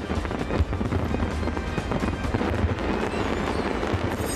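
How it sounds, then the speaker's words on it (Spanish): A fireworks display around the Eiffel Tower in Paris for France's July 14 national holiday: a loud, continuous roar of crackling and rumbling, with a few heavier booms standing out. "imágenes del espectáculo de fuegos artificiales que brillaron alrededor de esta icónica torre en París"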